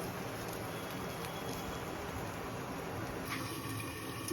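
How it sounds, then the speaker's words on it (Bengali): Katla fish curry with potatoes simmering in a covered pot, a steady bubbling hiss that stays even and close for the whole stretch with no talking. "ডেকে দিলাম, ফুটতে থাকুক।"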